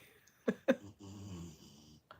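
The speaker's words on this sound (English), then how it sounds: "Can y'all hear my dog snoring?" Close, quiet snuffling snores from a dog: two sharp snorting inhales followed by a longer rumbling breath, then another short snort.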